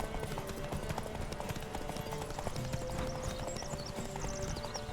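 Roach, Geralt's horse in The Witcher 3, gallops with rapid rhythmic hoofbeats that hold steady across the whole stretch. A whinny comes through along with faint game ambience, and a voice speaks lightly over the hooves.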